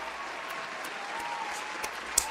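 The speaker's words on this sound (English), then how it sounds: "Another round of applause, I reckon." Canned applause plays from a soundboard during a gaming podcast, a faint, even wash of clapping and crowd noise that holds steady for a couple of seconds.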